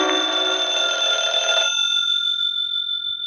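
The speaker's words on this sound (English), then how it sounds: "I believe that's the phone." A telephone bell rings loudly in an old-time radio drama, one sustained ring that cuts off and leaves a fading metallic tone.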